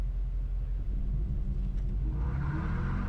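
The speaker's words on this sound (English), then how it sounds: "Launch control in the new Dodge Charger Daytona." A Dodge Charger Daytona EV launches hard from a standstill, with a deep, steady electric whir and low road rumble building under a tone that rises toward the end, with a little wheel spin off the line.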